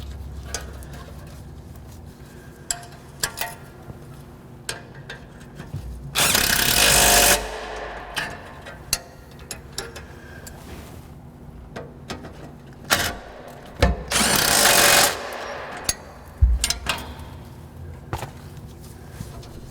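A power tool tightens the muffler and spring bolts on an Acura Integra, giving two loud whirring bursts among clanks and tool handling in a garage setting.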